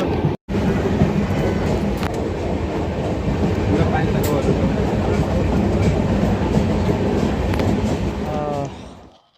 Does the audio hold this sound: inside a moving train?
yes